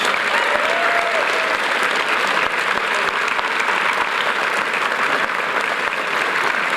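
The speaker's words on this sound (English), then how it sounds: "Can we have one more round of applause for our top 10 students?" Loud, sustained applause from an awards ceremony audience honoring top ten students, a dense, even roar of many hands clapping without pause throughout.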